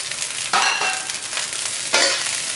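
Kale (Chinese broccoli) stir-fried in a wok for fried rice with salted fish, a steady loud sizzle with two sharp surges of hissing as greens are tossed, no talking.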